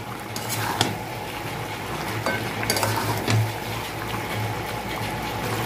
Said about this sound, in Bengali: এর মধ্যে আমি ধরে রাখা আলুগুলো দিয়ে দেবো, নিয়ে একসাথে কষে নেব